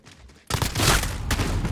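A sudden burst of MP5 submachine gun fire from Call of Duty Modern Warfare erupts after a brief quiet moment, loud rapid shots continuing with a second sharp surge near the end.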